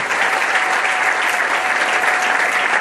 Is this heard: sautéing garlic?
no